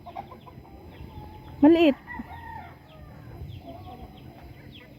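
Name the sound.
small chicken clucking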